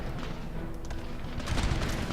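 Musket volleys in the video game Empire: Total War, set during the Great Northern War, crackle as a dense, rumbling fusillade of overlapping shots, building to a louder burst near the end.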